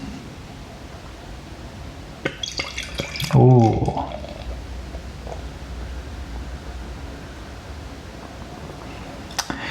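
Strong brown ale poured quickly from a bottle into a glass, giving a short burst of glugging and splashing close by, with someone talking before and after.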